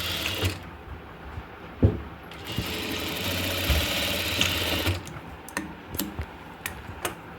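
A sewing machine stitches a double seam on a round-yoke nightdress, a steady close mechanical whir with rapid needle ticking that pauses and restarts with a few clicks near the end.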